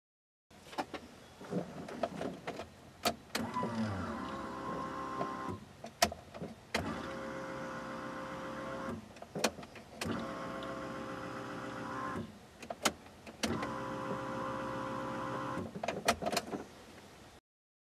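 A Walbro 255 lph electric fuel pump hums steadily as the key is cycled on several times to prime the fuel system, with repeated on-off runs separated by sharp clicks and brief gaps.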